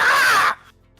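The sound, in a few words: person imitating a bird sound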